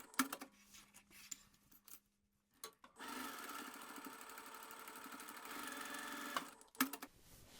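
Sewing machine stitching the corners of a bag lining at 2.5mm stitch length, with a few short handling clicks and a brief start, then a steady run of about three seconds before it stops.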